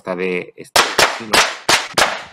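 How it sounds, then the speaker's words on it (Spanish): Sharp gunshots from a played video artwork ring out as a series of loud, separate cracks spaced irregularly apart, after a short spoken voice at the start. "se escuchan unos disparos"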